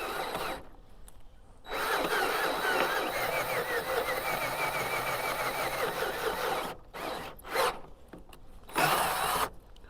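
A power drill whirs steadily at a low, even speed for several seconds, stopping briefly and restarting in short bursts near the end, while restoring the door hinges of a 1976 Chevrolet C20 pickup.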